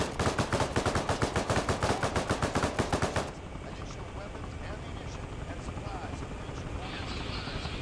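Rapid bursts of automatic gunfire in the military shooter game Arma rattle loudly in a steady rhythm for about three seconds, then stop abruptly, leaving a low rotor-like engine drone underneath.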